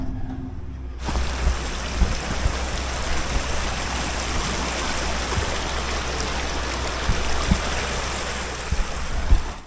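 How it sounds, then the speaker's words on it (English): Babbling creek water trickling beside a Colorado trail, a steady broadband rush that starts abruptly after a second and continues unbroken, close and fairly loud with small splashy bursts throughout. "Just a little babbling brook."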